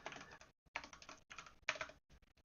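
Close, clear typing on a computer keyboard in quick bursts of keystrokes separated by short pauses, with no talk over it.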